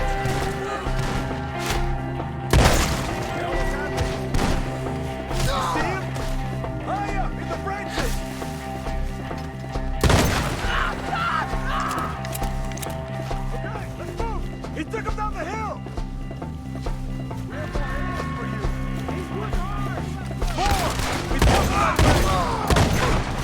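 Gunfire in Red Dead Redemption 2 with several loud shots cracking over busy music and game sounds, while voices shout over the fight.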